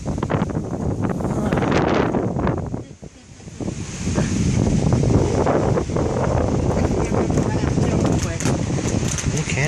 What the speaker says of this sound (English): See, I told you it was wind.